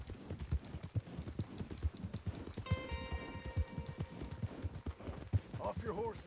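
Hooves clip-clop at a quick gallop in Red Dead Redemption 2, with a horse whinnying midway, under steady talk and game sounds.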